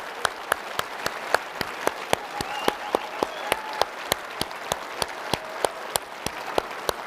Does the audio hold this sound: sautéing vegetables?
no